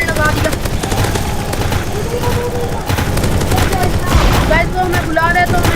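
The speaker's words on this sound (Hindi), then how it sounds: "हमने एक और टरेट लगा दिया" Rapid gunfire from a turret in a Roblox zombie game, a dense continuous stream of shots with booming hits, loud and close throughout, with game effects layered over it.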